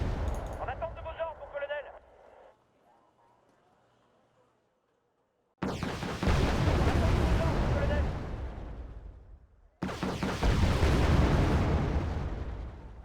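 Large bomb explosions in the war strategy game Wargame: Red Dragon, set in a 1992 Second Korean War campaign: two heavy, booming blasts with long rumbling decay follow an earlier burst of distant fire, loud and alone.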